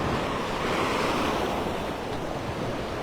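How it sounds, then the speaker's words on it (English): Surf breaks and washes steadily onto a Gulf of Mexico beach at Delnor-Wiggins in North Naples, Florida, a loud, continuous roar with wind buffeting the microphone. "waves just chipping away at the beach."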